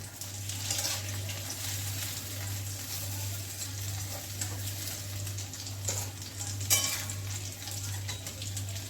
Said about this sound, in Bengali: এইভাবে অন্য যে ধোকাগুলো আছে আমি আবার ভেজেই নেব এইভাবে